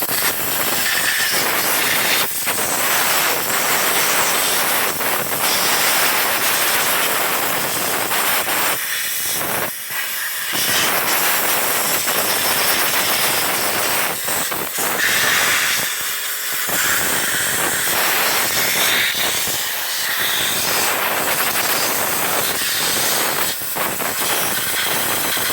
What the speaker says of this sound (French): Je vais faire ça à la soufflette.